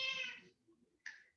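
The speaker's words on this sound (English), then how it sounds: "There's my cat." A pet cat meows twice near the microphone, a longer drawn-out call followed by a short pause and then a briefer second meow, in a quiet room.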